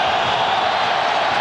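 Football crowd at Soldier Field during a 1995 Bears vs Steelers game, a steady dense roar of cheering that stays loud and unbroken throughout.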